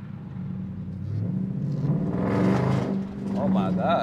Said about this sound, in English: Let's get this little POV drive in the 345 Hemi.